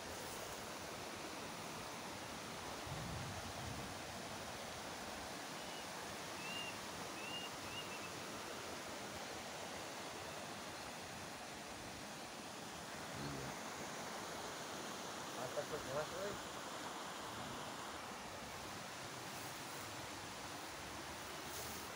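River water flowing at an outdoor fishing spot, a steady broadband rush holding at the same level throughout with faint sounds near the bank.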